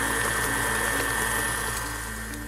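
Stand mixer beating egg and vanilla into creamed butter and sugar for cookie dough, a steady whirring motor hum with a faint rhythmic churn, close and alone.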